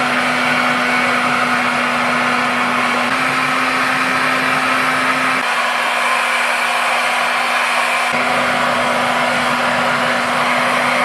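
Hair dryer blowing on wet hair extensions dyed with Kool-Aid at home, a loud steady broadband whoosh with a constant motor hum that dips briefly partway, as if the setting changes, then resumes.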